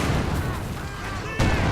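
Company of Heroes 2 battle with dense gunfire and rumbling blasts, ending in a sharp louder grenade-like explosion, under a caster talking over the action.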